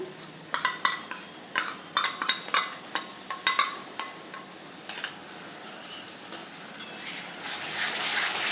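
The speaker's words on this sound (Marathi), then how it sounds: "आता हा मसाला मी तेल सुटेपर्यंत व्यवस्थित परतून घेते" Ground masala sautéing in oil in a pan for soybean masala bhaji, with a spoon scraping and stirring in repeated clinks and scrapes over a soft sizzle that grows steadier and louder toward the end.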